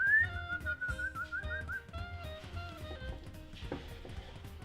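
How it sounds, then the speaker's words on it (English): A man whistles a lilting, melodic tune up close, the clear tones rising and falling over a few seconds with little else around them. "I can hear the guy whistling."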